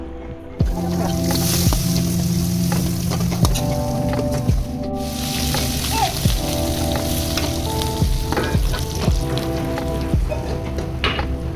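Country chicken curry with roasted ground coconut simmering in a pot, a steady close bubbling sizzle with occasional clinks and soft pops running throughout.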